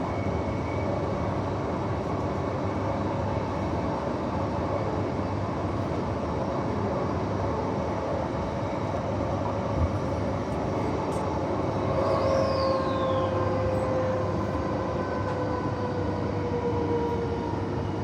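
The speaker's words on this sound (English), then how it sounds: "there's some aggressive braking" A Midland line train brakes hard between Bassendean and Midland, a continuous rumbling roll overlaid with rising squeals and screeching brake tones from the wheels, heard from inside the carriage at moderate level.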